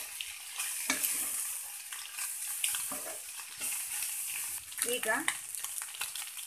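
Egg fried rice, with fried egg mixed in, is stirred in a frying pan. A spatula scrapes and tosses the rice in close, repeated strokes over a continuous sizzle, and one brief spoken word is heard.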